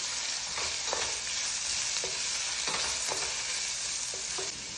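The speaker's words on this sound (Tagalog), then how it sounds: "Mix lang." Sliced onion sizzles and crackles in a hot pan for pansit canton, with a bright continuous frying hiss broken by several soft scrapes of stirring, no voices.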